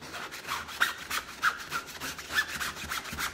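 A cake smoother scraping across royal icing on a cake, giving repeated rough rubbing strokes, fairly close and steady with no talking.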